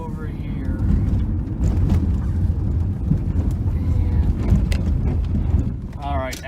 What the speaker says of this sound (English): We didn't slide or skid in the gravel over here. Our anti-lock brakes kicked in.